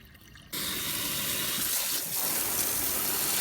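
Water gushes in a strong, steady rush after a sudden start, refilling a Minnesota koi pond after its filter has been cleaned, close up with no talking.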